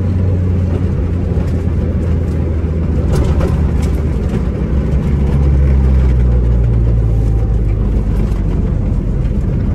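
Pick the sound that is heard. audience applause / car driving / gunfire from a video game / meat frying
car driving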